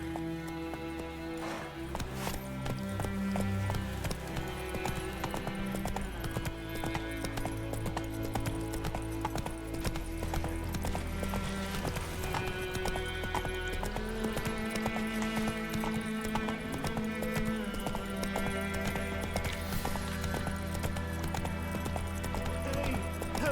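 A horse gallops with steady rhythmic clip-clop hoofbeats on a road in The Witcher 3: Wild Hunt, continuous and fairly close under a layer of game music.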